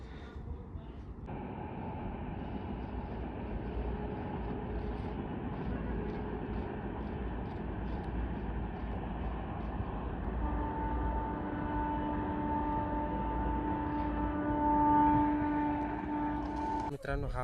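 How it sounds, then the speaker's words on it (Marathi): A train rumbles along a railway line near a hilltop fort, a steady distant roll of wheels with a long horn-like tone in the later part, heard beneath occasional talk. "इथेच तुम्ही समोर बघू शकता एक रेल्वे लाईन आहे, ज्यावरती आता एक रेल्वे येईल."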